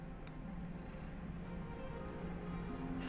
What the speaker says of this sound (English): I think you can hear my cat purring on the microphone.